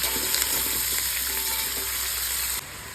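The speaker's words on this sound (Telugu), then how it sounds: "మూత పెట్టుకొని కొంచెం ఆయిల్లో ఉడుకుతుంది" Vegetables cooking in a little oil under a lid for Telangana-style sambar give a steady close sizzle and bubbling that runs evenly, then drops off abruptly near the end.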